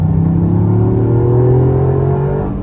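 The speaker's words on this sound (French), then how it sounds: "on attaque les choses sérieuses au volant de la Yaris GR en version track" A Toyota GR Yaris track version revs hard on a racetrack, its engine note climbing steadily in a loud, close, continuous drone that fades slightly at the end.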